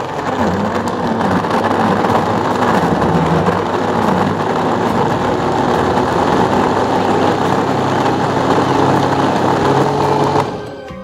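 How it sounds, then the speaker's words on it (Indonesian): A blender runs continuously, whirring loud and steady as it blends herbal ingredients with 400 cc of water, then cuts off at the end. "Supaya memblendernya menjadi mudah ya. Terus kemudian kita nyalakan."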